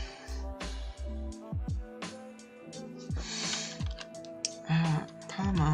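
Keys tap on a computer keyboard while a Frogger game is being made, scattered clicks mixed with low electronic tones and descending blips at moderate loudness.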